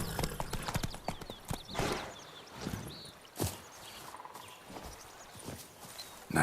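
Roach, a horse in The Witcher 3, clip-clops along with a quick irregular run of hoof strikes on hard ground, fairly close and fairly quiet, with no talking.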